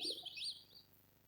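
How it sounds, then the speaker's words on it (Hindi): Forest birdsong played as a dawn stage effect: bright, rising chirps and warbled calls come in quick succession, then fade beneath a faint low hum, heard alone at modest volume. "जंगल के पशु पक्षी भी आवाज भी लगाने लगे।"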